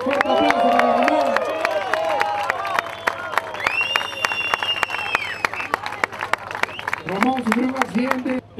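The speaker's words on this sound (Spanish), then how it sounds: "Fuerte aplauso para Ramón." A crowd claps and cheers at a surfing awards ceremony in Pico Alto, Peru. The steady applause runs under loud amplified talk and voices throughout.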